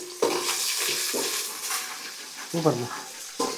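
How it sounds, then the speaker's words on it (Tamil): Garlic sizzles steadily in hot tempering oil as it is stirred, with scraping and clinking of a spoon against the pan while people chat over it. "பூண்டு எல்லாம் போட்டு நல்லா தாளி கத கத கத கத கத கதன்னு வதக்கிடணும்"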